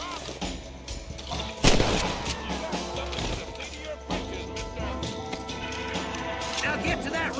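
Gunfire in the Western video game Red Dead Redemption, with repeated shots cracking over a dense battle mix of music and effects, including one loud blast near the start, while a character voice talks throughout.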